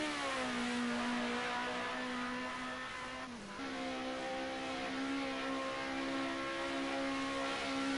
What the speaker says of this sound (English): Absolutely flat chat in that Sierra Cosworth down that back straight.